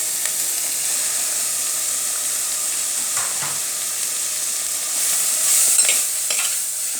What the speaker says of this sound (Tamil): இப்போ பாருங்கள், தக்காளி போடுறேன்